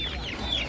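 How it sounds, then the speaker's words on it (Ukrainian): A chicken gives a short burst of clucking at an animal market in Ivano-Frankivsk, close and fairly loud against light background noise. "Небагато курчат."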